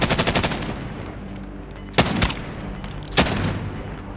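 Machine gun fire in the Call of Duty Warzone video game, a rapid burst of shots at the start followed by two sharper bursts later, loud and close with no voices over it.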